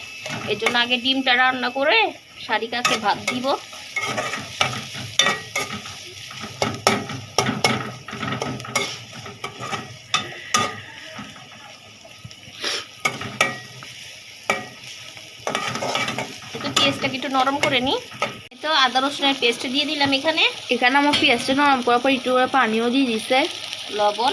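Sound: onions frying in a pan

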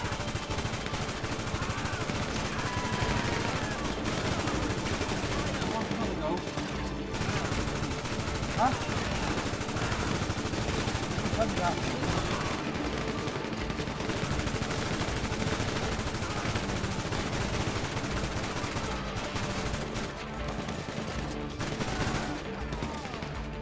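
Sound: gunfire in the video game Grand Theft Auto 5

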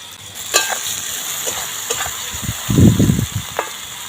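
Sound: frying potatoes and spice paste in a pan

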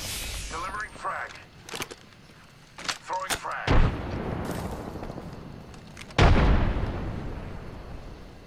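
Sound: frag grenade explosion in the video game Apex Legends

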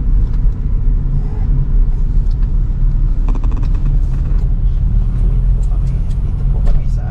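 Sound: car interior rumble while driving

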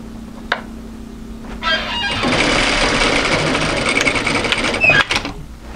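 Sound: sewing machine stitching a cardigan shoulder seam

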